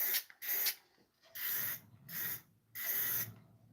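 Watco lacquer hisses from a nearly empty aerosol can in four separate bursts, each about half a second long, close up and fairly loud. Brief quiet gaps fall between the sprays.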